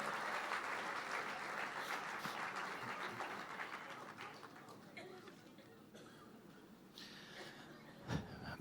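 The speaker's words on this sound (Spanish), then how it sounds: "Fuerte ese aplauso de alabanza al Señor" A church congregation applauds in praise to the Lord after a prayer, dense sustained clapping filling the room, gradually thinning toward the end with a sharp knock near the close.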